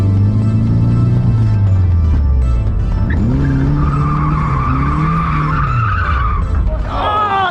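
A car drifting with the tires skidding and squealing loudly over a straining engine that rises and falls, the screech close and sustained throughout.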